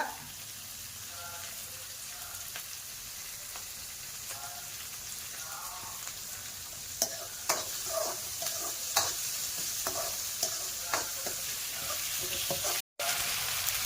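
Curry leaves sizzle and spit in hot oil while being stirred, a steady close frying hiss with scattered sharp pops and crackles and a brief cut near the end, with faint talk in the background.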